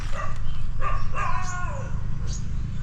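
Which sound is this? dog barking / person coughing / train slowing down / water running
dog barking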